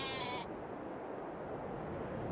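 A sheep in Farming Simulator 22 gives a single short, loud bleat up close, followed by a dense, low ambient rumble from the flock or surroundings.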